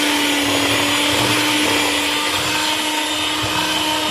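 A kitchen blender whirs steadily, mixing orange juice, orange zest and oats in a loud, continuous motor drone with a constant pitch and no talk over it.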